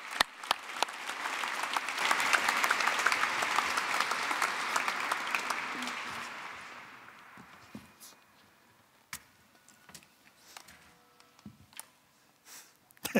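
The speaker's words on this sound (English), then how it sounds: "A warm applause" Warm audience applause welcomes Tilly Lockie onto a stage, a dense steady patter of many hands that swells for several seconds, then thins out into scattered claps and stray clicks toward the end.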